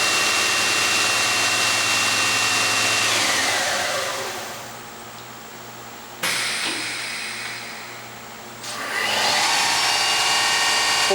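Fadal VMC-4020 CNC mill spindle spinning at 2,000 RPM, a loud steady whine and roar that dips, surges abruptly, then settles and climbs again, heard alone without talk.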